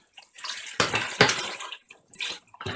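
Two litres of water pour into a container for brewing ginger beer, coming in several gushing, splashing bursts with short pauses between them.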